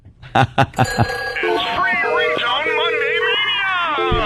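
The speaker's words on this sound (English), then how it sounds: "there's another ringtone for you" A phone ringtone plays loudly, a bright electronic melody of sustained and sliding tones following a few sharp opening beeps, while voices talk faintly underneath.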